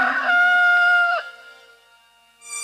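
A rooster crows once, loud and near, a bright drawn-out call that breaks off after about a second, followed by a short pause and a faint high musical tone at the end.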